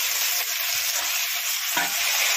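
Gongura sesame chutney made from sesame seeds, green chillies, ginger paste and salt is stirred in a frying pan, giving a loud, steady sizzle with soft scraping strokes and a sharper scrape near the end.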